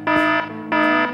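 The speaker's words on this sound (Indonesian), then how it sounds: "Suara alarm CCTV bunyi." A CCTV alarm in the Sakura School Simulator game sounds as two loud, buzzy electronic tones, each lasting about a third of a second with a short gap between them.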